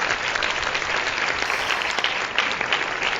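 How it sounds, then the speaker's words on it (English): Audience applause fills the room at the close of a talk, dense continuous clapping from many hands, loud and even throughout. "And everybody clapped."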